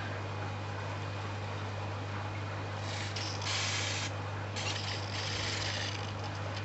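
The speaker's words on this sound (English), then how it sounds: "So we give them a little spray." A spray bottle mists water over a reptile enclosure in an exotic pet shop. Several soft hissing bursts sound close up over a steady low background hum, with no one talking.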